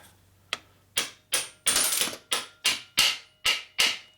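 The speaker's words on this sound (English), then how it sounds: "So usually I just tap this with a hammer a little bit." A hammer taps an O-ring into place on a Harley-Davidson transmission during the rebuild of a 1967 74ci Shovelhead FLH, nine or so close, crisp knocks in an uneven rhythm with no talking.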